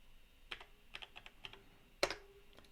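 Keystrokes on a computer keyboard as a short command is typed, a quick run of soft, close clicks ending in one sharper keypress, alone in a quiet room.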